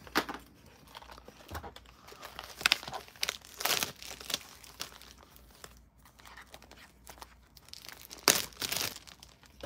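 Crinkly foil wrapper of a Topps Chrome Cosmic baseball card pack being torn open and handled up close, irregular crackling and ripping bursts with a few sharper tears.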